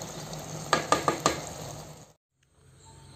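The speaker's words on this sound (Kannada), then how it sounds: "ಇನ್ನು ಇದಕ್ಕೆ ಒಂದು ಒಗ್ಗರಣೆಯನ್ನು ಹಾಕಿದರೆ ಆಯಿತು" Spices for tempering hiss and sizzle in hot oil, a soft broadband crackle broken by four quick metallic taps of a spoon against the pan before it cuts out to near silence.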